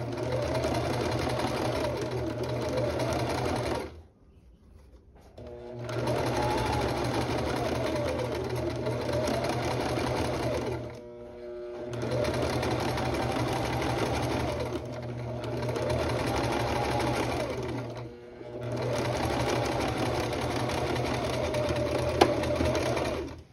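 A sewing machine stitches a shirt placket in several steady, continuous runs, close and fairly quiet, with brief pauses between passes.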